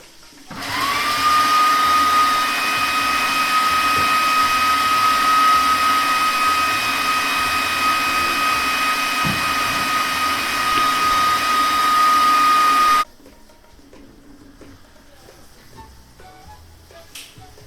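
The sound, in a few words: blender mixing pesto with parsley, parmesan and garlic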